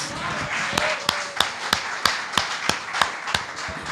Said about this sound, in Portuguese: Vamos dar uma salva de palmas ao Senhor pela liberdade de espírito que nós temos